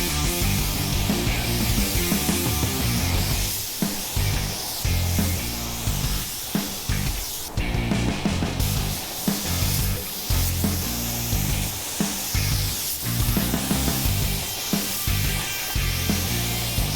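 A spray gun lays down the first coat of paint, a loud, steady hiss running almost continuously with brief pauses between passes, close up and with no talking.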